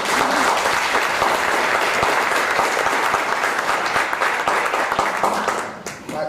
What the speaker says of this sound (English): can we applause a lot today?